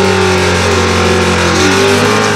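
Street race cars, one running nitrous and the other a supercharger, accelerating hard in a loud, sustained roar of engine harmonics close by for the whole stretch.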